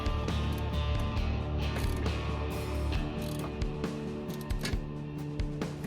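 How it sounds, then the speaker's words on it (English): Wrench ratcheting to tighten a nut on a thermostat housing during installation of a new 195-degree thermostat on an OBS truck, rapid close clicking of the pawl, continuous and steady throughout. "Let's tighten the other nut on here."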